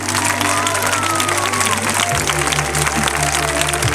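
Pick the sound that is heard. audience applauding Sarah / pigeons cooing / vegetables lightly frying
audience applauding Sarah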